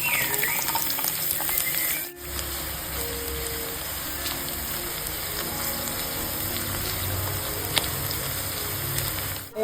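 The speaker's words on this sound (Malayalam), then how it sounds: "നമുക്കിനി ചെറിയ ഉള്ളി ചേർത്ത് കൊടുക്കാം." Small onions fry in hot oil for a Kerala moru curry, giving a steady, dense sizzle that crackles continuously, with occasional stirring sounds and no talk.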